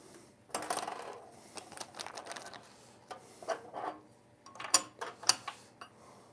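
Allen key tightening bolts on a FLSUN V400 3D printer, a series of close metallic clicks and scrapes coming in irregular bursts, louder toward the end, with no talking.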